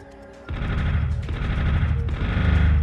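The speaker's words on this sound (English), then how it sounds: "that guy has really powerful machine gun" Enemy machine gun in Army Men: Green Rogue, a rapid, sustained burst of loud automatic fire that starts abruptly and rattles continuously to the end.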